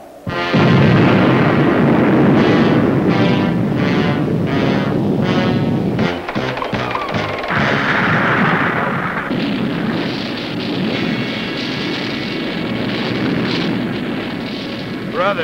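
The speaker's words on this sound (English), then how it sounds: "I go around dynamiting avalanches." Dynamite set off to trigger an avalanche booms loudly and rumbles on at length, a heavy blast with a long rolling, thundering tail across snowy mountain terrain.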